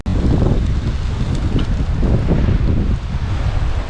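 Strong island wind buffets the microphone in heavy, continuous gusts with a low roaring rumble, swelling and easing over four seconds with no voices.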